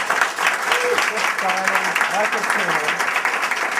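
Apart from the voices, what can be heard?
audience applause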